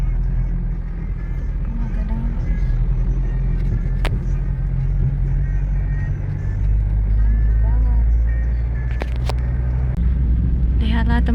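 Cars driving past on a road in hot dry-season weather, a steady low traffic rumble with passing engine noise and occasional brief higher sounds, under people talking.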